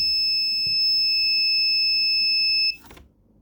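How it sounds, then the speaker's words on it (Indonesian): Electronic buzzer on a servo-operated food cover feeder, a loud steady high-pitched tone holding for close to three seconds before cutting off abruptly. "dapat dilihat bahwa buzzer berbunyi bertahan selama 3 detik"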